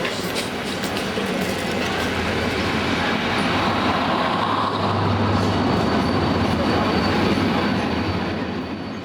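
An overnight sleeper train from Cairo to Luxor in Egypt runs with a loud continuous rumble, rattling carriage noise and rhythmic wheel clatter, heard close from inside the car.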